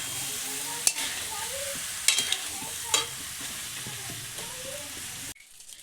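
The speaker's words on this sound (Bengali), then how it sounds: "এরপরে চালটিকে ভাজবো কিছুক্ষণ," Soaked rice frying in a pan for paneer pulao: a steady close sizzle broken by a few sharp scraping stirs of the spoon, ending abruptly.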